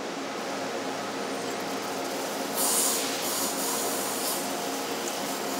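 A rotary wire EDM machine makes a skim cut with a steady, faint, close hiss and hum. There is a slight brighter swell midway through.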